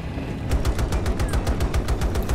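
Rapid, evenly spaced automatic gunfire from the video game Battlefield 2042 rattles steadily over a rumbling background through the whole stretch, moderately loud and unbroken.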